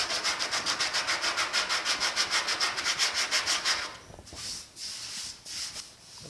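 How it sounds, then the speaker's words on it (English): Rhythmic back-and-forth sanding with 80 grit sandpaper on a wood block, on a 1950 Chevy truck cab, close and brisk, about five strokes a second for several seconds, then slower, scattered strokes. "grabbed a little block of wood here, and we're going to use that with some old 80 grit"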